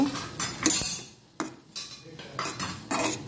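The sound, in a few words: stirring spiced gourd in a pan with a utensil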